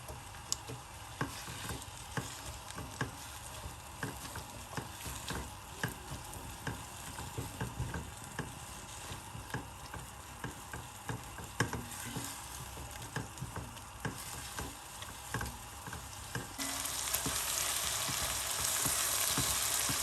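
Moringa flowers (sohanjna) and meat with ginger-garlic paste sauté in a pan, giving a steady, close sizzle dotted with sharp spatula clicks and scrapes, the frying hiss swelling louder toward the end.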